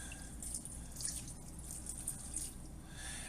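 A half cup of water pours and drips into a casserole dish, a faint, steady trickle with small splashes and no talking.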